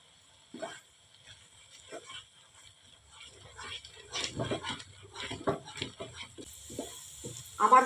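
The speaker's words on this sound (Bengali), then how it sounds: "আমের সাথে যেন ভালো করে মিশে যায়, একটু নেড়ে নেড়ে আনতে হবে।" A spoon scrapes and stirs a thick mango and khoya mixture in a pan over the stove, with soft irregular scuffs and faint sizzling that grow busier and louder toward the end.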